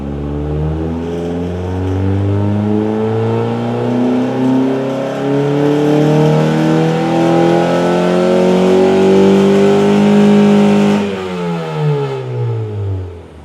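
A K24-swapped Honda Fit engine revving under load during tuning, a loud sustained climb in pitch over several seconds, then easing off sharply and falling back, close and alone.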